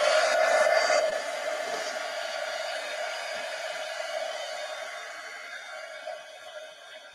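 A hair dryer drying liquid ink on an art journal page, a steady close whooshing blow that is loudest in the first second, then holds a little lower and fades slightly toward the end.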